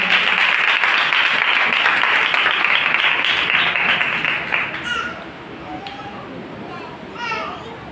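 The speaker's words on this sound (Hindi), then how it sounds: "खुदा के पाक नाम के लिए जोरदार तालियां" A church congregation at a prayer and fasting meeting breaks into loud applause that runs for several seconds, then fades away as a voice starts speaking.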